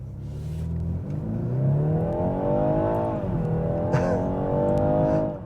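A 2021 BMW 430i coupe with a turbocharged four-cylinder engine accelerates hard from a stop in sport mode, its engine note climbing steadily through a gear change, loud and close from inside the cabin.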